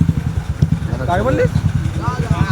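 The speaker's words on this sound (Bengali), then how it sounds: "দশখানা বাইক নিয়ে যাচ্ছে বন্ধুরা" A group of about ten motorcycles rides along together, their engines giving a steady, close, pulsing low rumble beneath people talking loudly.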